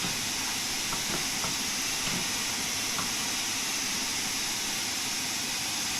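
Steam locomotive venting steam from its open cylinder cocks in Train Sim World 5: a loud, continuous broadband hiss that holds steady throughout, with faint mechanical clanks underneath.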